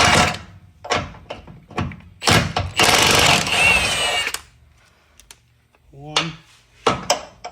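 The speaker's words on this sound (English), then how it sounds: "We're gonna take those 2 bolts out." Bolts being taken out of a Jeep Gladiator body mount with a power tool: several short whirring bursts and a longer sustained run, close and loud, with someone talking in between.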